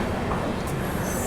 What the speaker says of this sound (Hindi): अच्छा खासा पिकअप लिया गाड़ी ने और dot on time 12:30 Bhagalpur junction से अपनी ट्रेन जो है वो निकल चुकी है।